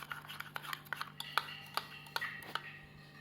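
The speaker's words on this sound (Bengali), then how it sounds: "এবার আমরা টক দইটাকে ভালোভাবে মিশিয়ে নিব যাতে দানা দানা ভাবটা আর না থাকে" A spoon clinks and scrapes rhythmically against a pot while stirring sour curd, the sharp metallic taps coming quickly and evenly, close up and fairly soft, with a low steady hum underneath.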